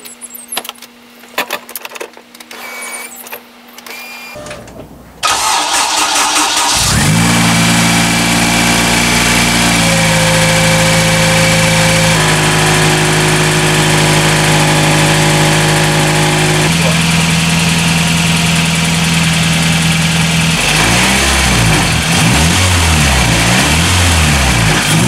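A Honda K20 engine cranks and catches after a valve clearance adjustment, then settles into a steady, loud idle with a slight surge in pitch partway through, following brief rattling and jangling before startup.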